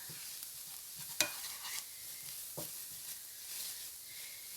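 Flour being cooked in a pan for a roux before adding beef broth: a faint, steady hissing sizzle with occasional scraping stirs, no talk.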